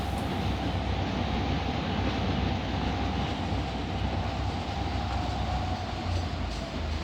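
A train rolls steadily along the rails in the Trainz railway simulator, a dense, continuous rumble with a faint tonal whine, loud and unbroken, with no talking over it.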